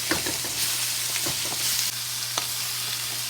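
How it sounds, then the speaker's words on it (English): Tomatoes and onions frying in a pan for aloo gobi masala, a steady close sizzle with several sharp utensil scrapes and stirring knocks, no talk. "Quickly add tomatoes and onions and fry them well."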